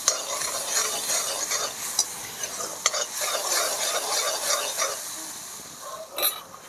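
A spoon stirs spice masala with coriander-cumin powder and a splash of water in a frying pan for urad dal, a close, busy scraping with continuous sizzling and occasional metallic clinks.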